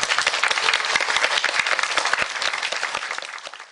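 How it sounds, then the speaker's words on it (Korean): Audience applause welcoming a pastor onto the stage for a special lecture at a Buddha's Birthday gathering, brisk individual claps blending into a lively burst that tapers off after a few seconds. "큰 박수로 환영해 주시기 바랍니다"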